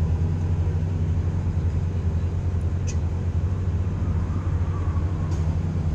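City traffic on Michigan Avenue in Chicago makes a continuous low rumble of passing vehicles, with engine drone rising and falling slightly in a steady wash of street noise.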